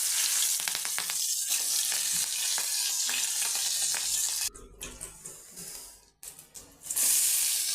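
Fennel seeds and green chillies sizzle in hot oil with a bright, hissing crackle that fills the frame. Two brief dips break it before the fry swells back, and no voices are heard.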